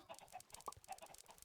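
Chickens on a Minecraft farm cluck in short, repeated bursts, several birds heard faintly and fairly close, with one sharper squawk partway through.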